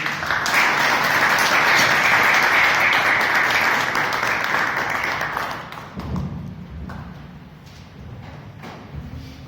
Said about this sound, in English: Please welcome with full round of applause Toastmasters.